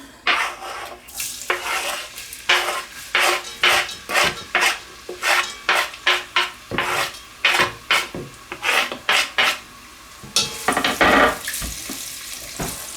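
Chopped onion going into hot oil in a pan for a meat lasagna base, followed by a steady run of rhythmic scraping strokes as it is stirred, close and fairly loud, with brief sizzling between strokes.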